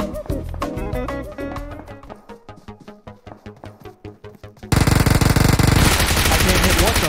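Rapid video-game gunfire, a steady train of evenly spaced sharp automatic shots that trails off, then a loud dense wall of continuous fire at the end, with a voice briefly heard at the start.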